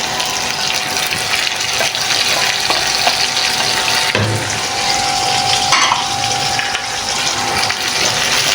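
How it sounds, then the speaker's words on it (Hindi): Tomato paste poured into a pan of frying Afghani karahi, giving a loud, steady hiss and bubbling sizzle that carries on without a break, close up, with no voices. "मैं टमाटर का पेस्ट डालने लगी हूँ"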